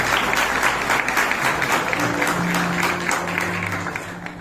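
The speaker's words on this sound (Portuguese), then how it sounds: "Você pode aplaudir o Senhor?" Church congregation clapping steadily in praise during a worship service, a dense, continuous wash of applause with a faint sustained tone rising underneath midway.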